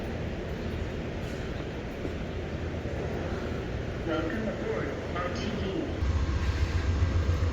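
A train rumbles at Denver Union Station as a continuous, loud low drone with a rising hum near the end, under some background chatter.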